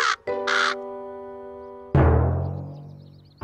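A cartoon crow caws loudly and alone: a couple of short harsh calls followed by a longer drawn-out caw, with no talking.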